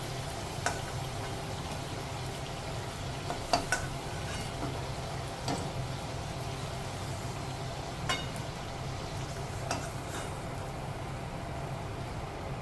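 Potato pieces frying in a pan, a low steady sizzle with occasional faint clicks and taps of a utensil, quiet and close with no voices.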